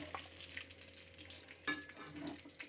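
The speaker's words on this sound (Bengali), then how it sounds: "তেলটা বেঁচে গেছে, ওই তেলের মধ্যেই আমি মশলাটা কষে নেব।" Spice paste cooking in leftover oil alongside chicken in a pan, with a soft steady sizzle, a few spoon scrapes and one sharper clatter partway through, heard close with no talk.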